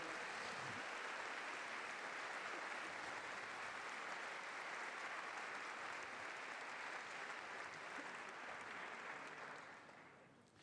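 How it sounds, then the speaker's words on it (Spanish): A church congregation applauds young people after a pastor's call, sustained even clapping that fills the room for about ten seconds before tapering off. "Den un aplauso a los chicos"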